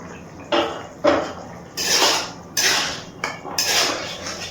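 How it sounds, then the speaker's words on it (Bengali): A metal lid lifted off a cooking pot of boiling potatoes on a gas stove, several clanking metallic clatters and scrapes in an uneven sequence, close up. "ঢাকনাটা তুলে নিচ্ছি।"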